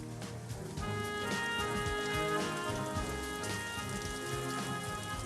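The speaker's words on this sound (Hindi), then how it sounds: "बारिश भी शुरू हो गई है।" Steady rain patters over a dense, continuous background wash, with no voices, holding even for several seconds.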